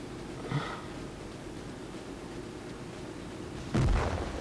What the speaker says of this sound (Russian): Без сводки стреляю уже.